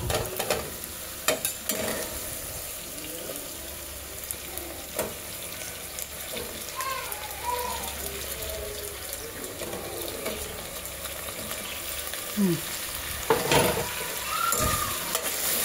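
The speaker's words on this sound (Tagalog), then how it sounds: "Gisa lang natin ng konti" Potatoes sautéing in a pan, a steady soft sizzle with occasional stirring scrapes and clinks, fairly close and alone without voices.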